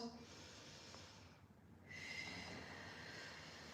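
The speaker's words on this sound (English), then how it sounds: "taking a couple of breaths in and out" Slow, deep breathing in and out during a beginner full-body warm-up, faint and close, with a breathy inhale and a longer, louder exhale over a low background hiss.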